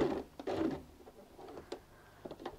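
Sewing machine stitching a curtain ring hand bag, with short mechanical bursts of stitching close up, a couple of brief runs separated by pauses and small clicks, fairly quiet overall.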